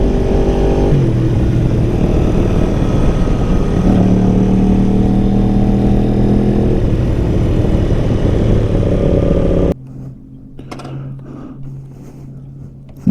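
An Aprilia 1100 Factory motorcycle engine runs steadily and loudly, with a pitch rise partway through, then cuts off abruptly, leaving a quieter low idle-like hum and a few faint clicks.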